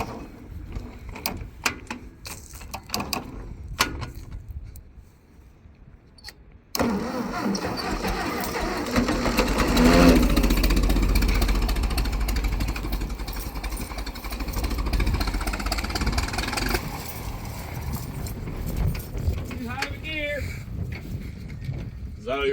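An old tractor engine cranks with a few sputtering tries, then catches and keeps running at a steady, loud idle with rising revs, while people talk over it.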